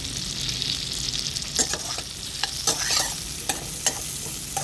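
Onions and capsicum frying with salt in a pan for chilli chicken, a steady hiss of sizzling broken by intermittent scraping stirs of the spatula, close and moderately loud with no talking.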